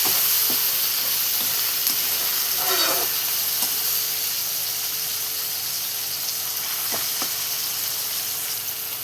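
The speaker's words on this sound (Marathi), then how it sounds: "आणि बघा मस्त आपला कांदा टमाटर ब्राऊन झालेला आहे" Onion and tomato fry until brown in a pan for methi bhaji, giving a constant soft sizzle and hiss with occasional faint stirring clinks, heard close and alone.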